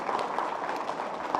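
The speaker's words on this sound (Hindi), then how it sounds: "जोरदार तालियां" Audience applause in a Buddhist monastery hall in Raipur: a steady, moderately faint patter of many hands clapping together without pause.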